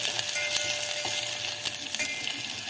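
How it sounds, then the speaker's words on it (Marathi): Chopped onion sautéing in a pan, a steady close sizzle with a few faint scrape-like ticks from stirring, no voices. "कांदा, हे आता थोडा वेळ परतून घ्यायचं आहे."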